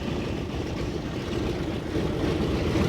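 A 1,200 horsepower Wright nine-cylinder radial aircraft engine runs with a loud, rough, continuous low-pitched drone that stays steady and close throughout.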